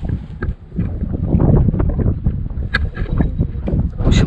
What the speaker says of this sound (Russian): Сильный порывистый ветер.